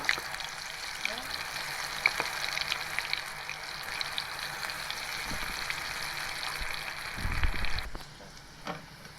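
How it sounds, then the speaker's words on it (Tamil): Steady crackling sizzle of prawns deep frying in medium-hot oil, continuous and fairly close, with a few clinks and bumps near the end. "பொரிக்கும் போது நம்ம ஆயிலை மிதமான சூட்டில் வச்சுக்கோங்க"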